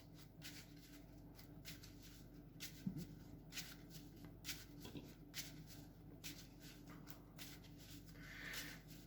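A deck of Destiny Hero trading cards is shuffled steadily on its own, a faint, close series of rhythmic riffling and sliding card sounds repeating for several seconds with a low background hum.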